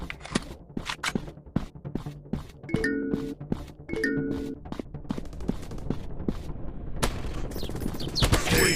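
Rapid gunfire from a PUBG-style first-person shooter game rings out in repeated sharp shots and bursts, with game chimes and effects in between, loud and close throughout.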